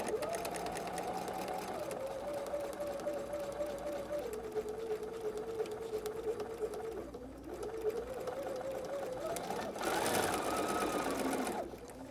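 A sewing machine runs continuously while a foundation paper pieced quilt seam is sewn. The motor hum is steady and close, with a whining tone that dips and rises in pitch as the speed changes, and surges briefly near the end.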